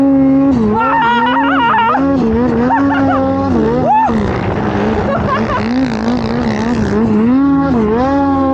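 A snowmobile engine revs hard and varies in pitch as it climbs a snowy hill, staying loud and close throughout, with voices shouting faintly over the engine.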